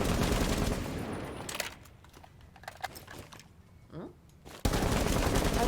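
Weapon reload with the Thermite elite skin in Rainbow Six Siege: a short run of mechanical clicks and clacks between loud bursts of game gunfire and noise at the start and end.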